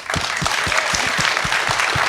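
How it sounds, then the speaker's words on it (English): An audience at a festival talk breaks into lively applause, dense clapping filling the room, with a regular rhythmic thump running beneath it throughout. "A round of applause for Angela."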